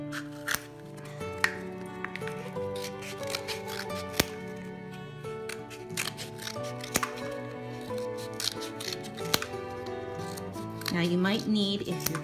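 Scissors snipping through a cardboard toilet paper tube while gerbil toys are made, a string of sharp clipping cuts at an irregular pace, close up, with some crinkling and a brief scrape near the end.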